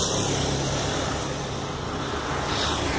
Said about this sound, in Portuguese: os carros estão trafegando na contramão.